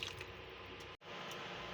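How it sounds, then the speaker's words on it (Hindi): One cup of water pours steadily into a soy sauce and spice mixture for a homemade pizza sauce, making a continuous close splashing wash that breaks briefly midway. "और 1 कप हम इसमें पानी डाल देंगे।"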